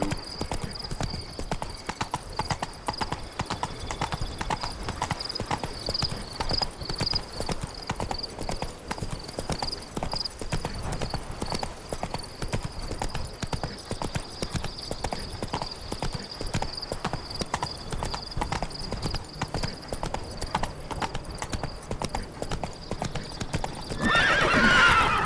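Roach the horse in The Witcher 3 gallops in a long, steady rhythm of hoofbeats, with a sustained high tone running beneath it and a whinny near the end, all close and loud.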